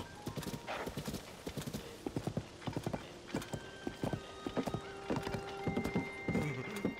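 Rhythmic clip-clop of hooves trotting steadily in The Legend of Zelda: Tears of the Kingdom, with a horse whinnying a few times over the footfalls.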